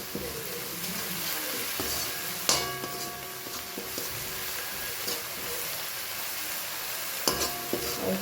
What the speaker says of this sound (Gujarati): મીઠું એડ કરી સરસ મિક્સ કરી લઈએ